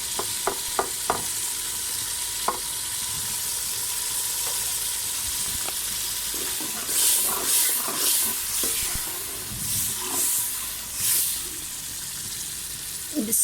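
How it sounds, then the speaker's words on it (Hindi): Lentils (dal) go into hot masala in a pan, a stirred sizzle with scraping and splashy bursts through the second half, after a few sharp clinks, no talk over it. "अब इसमें हम डालेंगे दाल"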